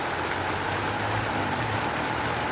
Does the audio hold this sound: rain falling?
yes